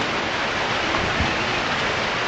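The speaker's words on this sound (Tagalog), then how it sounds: "So ayun, ulan." Steady rain pours down, a dense continuous hiss with no gaps, close and fairly loud throughout.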